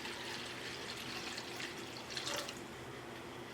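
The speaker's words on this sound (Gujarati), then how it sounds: "એ બંનેમાં આપણે પાણી નાખી દઈશું" Water runs steadily as it is poured over washed sago pearls and moraiyo (barnyard millet) to soak for fasting dosa batter, a continuous close splashing hiss with a few brief drips and no talk.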